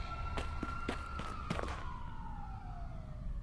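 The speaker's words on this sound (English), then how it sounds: "police sirens outside rise and fall along with the wind" Police sirens in the video game Reverse 1999 wail outside, their pitch sliding slowly downward over a steady wind-like hiss, with a few soft thumps early on and no talking.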